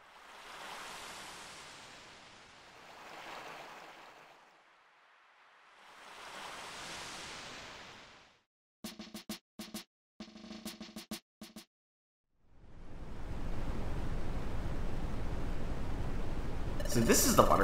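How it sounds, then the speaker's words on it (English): Waterfall in the game Pokemon Mystery Dungeon Explorers of Deceit, a broad rushing water noise that swells in two surges, drops away, then returns steady and louder near the end, broken midway by short bursts of game sound effects. "So this is the waterfall that supposedly has a secret."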